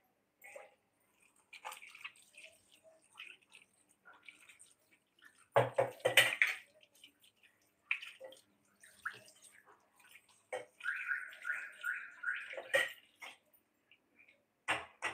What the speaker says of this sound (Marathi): हे बघा माझ्या हातात आता पिठाचे, तर मी धुवून घेतोय